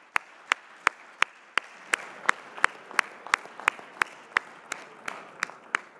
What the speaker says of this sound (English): give a nice, loud, warm round of applause for Salem Spartans